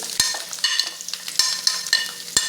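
Mustard seeds popping and dried red chillies frying in hot oil for a star fruit pickle, with sharp irregular crackles and pops over a steady close sizzle.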